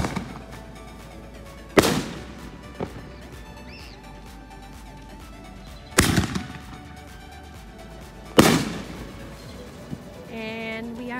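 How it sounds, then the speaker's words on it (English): Backyard fireworks on the Fourth of July go off in three loud, sharp booms spread several seconds apart, each ringing out briefly, with smaller pops and crackles between them. "And we are done with the fireworks"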